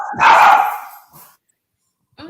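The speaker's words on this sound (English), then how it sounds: "It was the dog." Dog barking: one loud, close bark that tails off, followed by quiet and a brief faint sound at the end.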